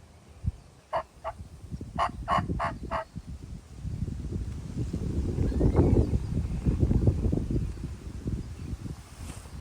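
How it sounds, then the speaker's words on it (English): Several wild turkey toms gobble in short bursts, fairly distant and outdoors in a Minnesota field, over a steady low wind rumble during a hunt. "we heard some gobbles kind of back where we were when we started here today"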